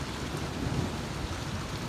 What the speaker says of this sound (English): And then began the lightning, the thunder, and a tropical storm, and then hail down twice.